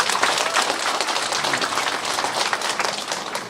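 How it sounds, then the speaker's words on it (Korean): Audience applause at a local government talk concert in Eumseong-eup, a dense, steady patter of many hands clapping throughout, moderately loud and continuous with no speech over it. "오늘 토크 콘서트 큰 박수로 시작하겠습니다"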